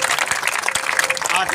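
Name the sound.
crowd applause at village ceremony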